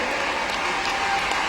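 Audience applause at a public address on demonetisation, a dense steady wash of many hands clapping together at close range, sustained throughout with no voice over it.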